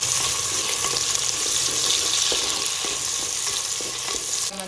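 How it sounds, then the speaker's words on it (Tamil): Garlic, green chilies and curry leaves frying in a pan for a Madurai-style fish curry, a dense steady hiss of hot oil with faint stirring knocks, close and unbroken. "பூண்டுமே நல்லா பொறிஞ்சு வந்துருச்சு."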